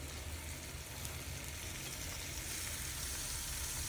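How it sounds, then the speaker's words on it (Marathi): Mutton with green onion stalks sautéing in a pan, a continuous even frying sizzle with a faint low rumble underneath, close and steady with no voices. "सगळ्याला परतणं झालेलं आहे मटणाला आणि कांद्याच्या पात्याला"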